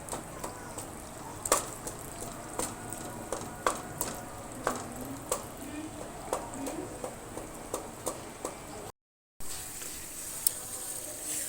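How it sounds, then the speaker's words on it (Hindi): Skinned tomatoes being mashed and stirred into sizzling mutton karahi, a steady frying hiss under repeated sharp clicks of a spoon against the pot at a regular, unhurried pace, close up. "और हम अब इस टमाटर को इस तरीके से इसमें घोट देंगे।"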